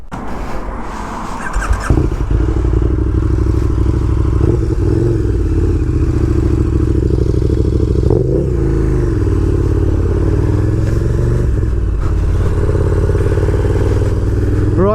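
A 2019 KTM Super Duke R motorcycle fires up and rides off, its loud, close engine rising into a sustained rough drone with several rev swells and gear changes.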